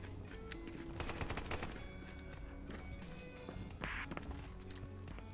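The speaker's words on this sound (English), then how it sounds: "Just gonna shoot me, Alfonso" Gunfire rattles through a Contractors VR firefight in an overgrown Modern Warfare 2 style map, with dense bursts of automatic shots and scattered single cracks at close range, plus clatter and movement, and no talk.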